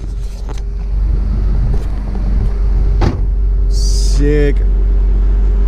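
A Shelby Raptor truck rumbles past near a beach, its deep, steady engine drone loud throughout. A voice speaks briefly over the noise.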